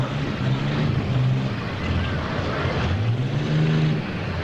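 A loud, steady engine roar with rising and falling pitch, heavy and continuous, from an Allis Chalmers 8070 tractor pulling under load at a tractor pull.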